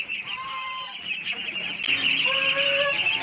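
Chickens cluck and squawk close by in a village yard, short overlapping calls over a constant background hum, with a goose-like honk in the mix.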